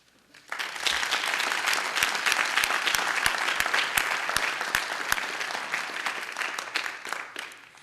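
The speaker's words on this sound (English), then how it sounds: "I would like to ask you for a round of applause for Michelle Hanna" A banquet crowd at an awards evening applauds in a broad, sustained wave that starts after a brief quiet moment, with a few sharper individual claps standing out, moderately loud and without speech.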